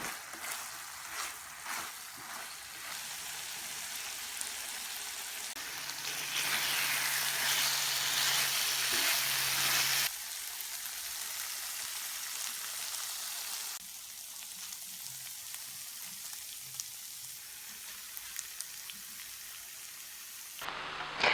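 Vegan char siu ribs sizzle in a pan while the sauce cooks down, giving a steady crackling fry that swells louder in the middle and then settles to a softer simmer, with no voices.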